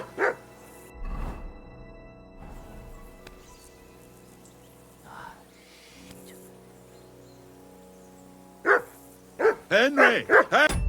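Dog barking in the medieval video game Kingdom Come: Deliverance 2, with a few scattered barks early on, then a loud run of close barks and yips near the end amid quiet background.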